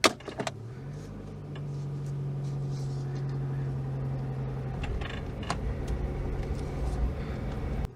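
A Citroen GSA car pulls onto Pembrey race circuit, opening with a few sharp clunks, then a steady engine drone with a sustained mechanical whine for several seconds, followed by rougher engine noise and occasional knocks.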